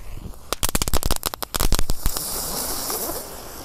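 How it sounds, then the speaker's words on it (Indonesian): Small spinning firecrackers, a whole pack of three-colour mini spinners lit at once, go off in a rapid, dense string of sharp crackling pops, then give way to a steady fizzing hiss. "Selanjutnya kita nyalakan mercon gangsing super 3 warna yang kecil-kecil guys."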